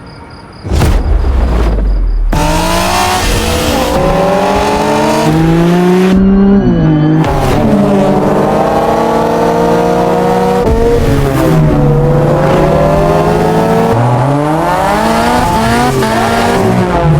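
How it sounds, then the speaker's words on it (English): Race car in the racing game The Crew Motorfest, its engine loudly revving and climbing through gears in repeated rising sweeps, with tire squeal and skidding, close and continuous. "You'll be racing amongst the whole pack this time, so we got you covered with a special car."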